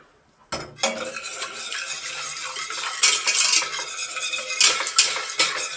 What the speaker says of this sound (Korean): 이제 물을 조금만 분 다음에 얘를 풀어줘야 돼요.